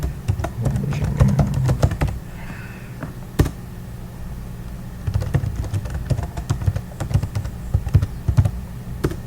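Keys clatter on a computer keyboard in irregular bursts while a git push command is entered, with one sharper keystroke standing out like Enter; close, fairly loud, and no talking.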